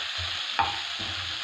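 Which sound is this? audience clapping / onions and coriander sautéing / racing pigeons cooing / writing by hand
onions and coriander sautéing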